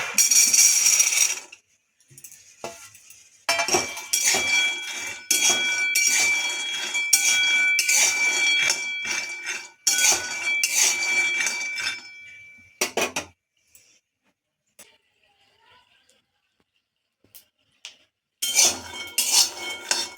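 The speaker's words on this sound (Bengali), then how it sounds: "এখন বাদামগুলো ভেজে নেব।" Peanuts roasting in a dry pan rattle and clatter as a utensil stirs them in quick bursts of scraping and clinking, with several quiet pauses between rounds of stirring.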